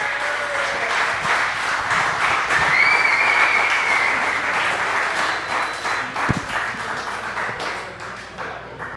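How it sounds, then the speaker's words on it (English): Live show audience clapping for the host, a loud dense burst of applause that holds steady for several seconds and then gradually thins out, with a few whoops mixed in. "All right, guys, clap it up for your host, James Van Osdal."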